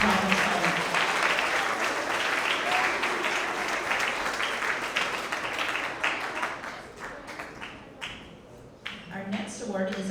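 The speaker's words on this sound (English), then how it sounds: "Go ahead and give them another round of applause for all of our creative problem solvers." Crowd applause at a school awards ceremony, many hands clapping densely at first, then thinning into scattered claps before a voice briefly speaks near the end.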